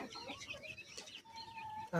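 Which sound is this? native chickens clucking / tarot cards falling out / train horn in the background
native chickens clucking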